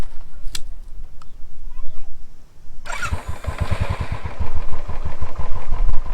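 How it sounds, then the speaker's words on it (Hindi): A Royal Enfield Thunderbird 350 motorcycle, owned for four years, cranks and fires up loudly nearby, then settles into a deep, thumping, steady single-cylinder idle with a pronounced pulsing beat. "मैं स्टार्ट करता हूँ इस बाइक को"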